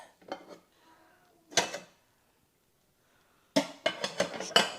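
Metal cookware clanks and rattles in short bursts, a pan knocked against other dishes, with quiet gaps between the clatters.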